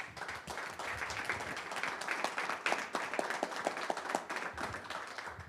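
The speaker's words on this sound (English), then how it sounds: "Let's give Mark a round of applause then." Round of applause for Mark at a startup networking event, a room of people clapping nearby with some individually distinct sharp claps, steady and moderately loud before tapering slightly at the end.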